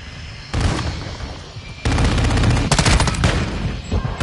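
Pistol gunfire in a video game, a burst of rapid, loud shots that starts after a brief lull and continues in quick overlapping volleys.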